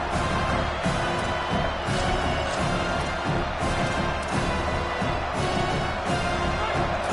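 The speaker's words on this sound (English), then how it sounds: "Here comes this home crowd as the defense tries to get off the field on 3rd down." A home crowd roars at a college football game between Miami and LSU as the defense faces third down, a dense sustained wall of cheering with rhythmic surges and thumps throughout.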